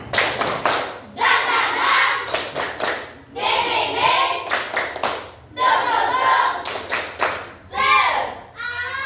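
A school class doing the 'tepuk semangat' clapping chant: clusters of sharp, rhythmic group claps alternate with loud chanted children's voices in a repeating pattern, close and lively.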